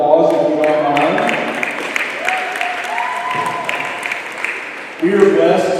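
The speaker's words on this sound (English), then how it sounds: "I would like for you to give her a round of applause if you don't mind." Students applaud a senior sponsor at a high school senior meeting, a steady crowd of clapping under background music that rises again near the end.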